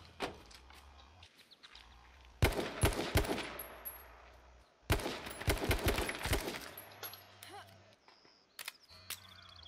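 Gunfire in the online survival game H1Z1: two loud clusters of rapid, sharp shots a few seconds apart, close and punchy, followed by quieter scattered game sounds.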